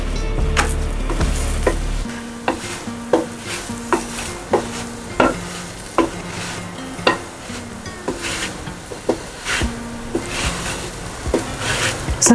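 Onion cheese paratha roasting in ghee on a hot pan, a steady sizzle with repeated soft scraping and stirring strokes as the flatbread is turned and pressed, close and fairly loud, no talk.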